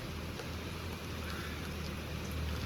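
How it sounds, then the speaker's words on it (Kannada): Rain drums steadily on a parked car with a window open, a dense hiss heard from inside the cabin, fairly quiet and continuous without voices. "ಮಳೆ ನೀರು ಒಳಗಡೆ ಬರ್ತೈತೆ"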